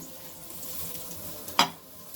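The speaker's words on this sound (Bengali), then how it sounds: "হয়ে গেল আমার বেগুন ভাজা" Eggplant slices frying in a pan give a steady, soft sizzle throughout, with one short, sharp clink of a utensil near the end; nobody speaks.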